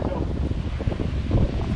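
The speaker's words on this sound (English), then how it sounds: "it's pretty windy up here." Wind blows at a mountain racetrack with steady, close, low rumbling buffets against the microphone. The gusts flutter continuously and no other sound stands out.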